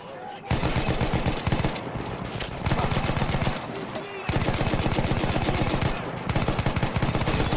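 Machine gun fire in the video game Battlefield 1 comes in rapid, loud bursts separated by brief pauses, up close and dominating, with several long sustained strings of shots.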